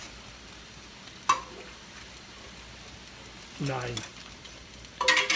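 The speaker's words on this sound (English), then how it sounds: "let's just stir this for a little while. It's going to begin to thicken." Chicken and dumplings stirred in a pot, a faint bubbling hiss broken by a few scraping stir strokes and clinks of the spoon, with a voice speaking briefly.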